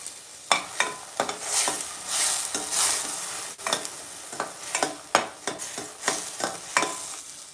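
Onion and green chilli frying in a pan for chicken curry, a continuous sizzle punctuated by repeated sharp spatula scrapes and knocks at an irregular rhythm, close and clear.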